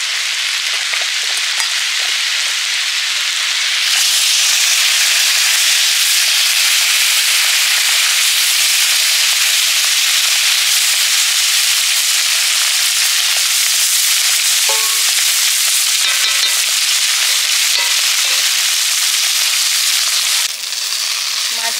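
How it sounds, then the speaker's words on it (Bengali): Fish fries in mustard oil with a loud, continuous hissing sizzle and scattered crackles that hold steady for the whole stretch. "এবার মাছ ভাজবো"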